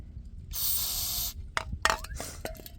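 A short burst of aerosol spray into the fuel system of a John Deere 318 lawn tractor hisses for under a second, followed by a few small clicks and squeaky mechanical sounds, close and quiet.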